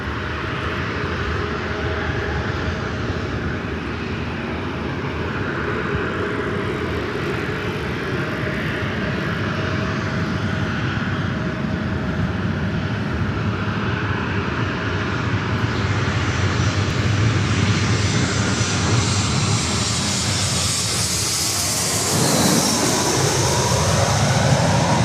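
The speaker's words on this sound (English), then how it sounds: "This is American Airlines 603 coming in from Chicago on the A319." American Airlines flight 603, an Airbus A319 arriving from Chicago, comes in to land at LAX, a sustained jet roar that swells louder and brightens toward the end as it passes close.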